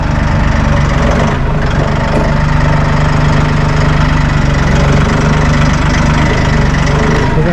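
Skid steer engine running steadily while the machine backs up, a loud continuous low rumble and drone throughout with no talking.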